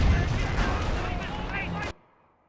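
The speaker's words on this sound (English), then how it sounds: "And do have an actual barrage there." An artillery barrage in Company of Heroes, a dense roar of booming impacts and rumble for about two seconds, then abruptly cutting to near silence.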